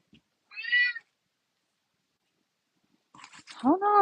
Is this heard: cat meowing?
yes